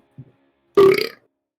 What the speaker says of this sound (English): You get one burp, and that's it.